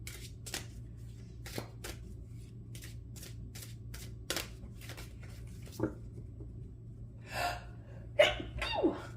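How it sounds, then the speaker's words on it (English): Several sharp sneezes, triggered by incense, and breathy bursts occur at irregular intervals over a steady low hum, with a couple of louder gasping sneezes near the end. "Sorry, incense makes me sneeze sometimes."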